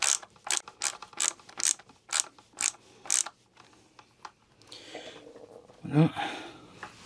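Ratcheting screwdriver with a Phillips bit driving a screw into the plastic front lip of a Tesla Model 3, a run of about ten close clicking pawl ticks followed by quieter handling noise and a brief voice.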